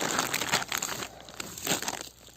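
A discarded paper supermarket advertising leaflet is crumpled close by in a few quick, crisp crinkling bursts, quiet overall, with short pauses between handfuls.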